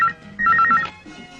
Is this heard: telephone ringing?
yes